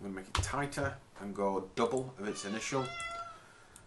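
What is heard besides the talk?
cat meowing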